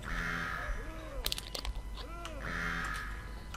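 A sniper's pet bird in Borderlands 2 gives two harsh, drawn-out caws, each a rasping call followed by a pause, with clicky game effects and short bursts of noise between them, fairly close and clear.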